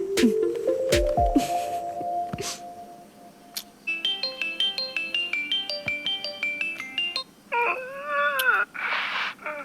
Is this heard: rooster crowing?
no